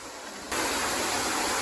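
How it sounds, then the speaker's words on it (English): Katahdin Stream Falls on a mountain trail: rushing water swells abruptly into a loud, steady broadband roar, as if heard up close, with no voices. "Now we're looking at a waterfall."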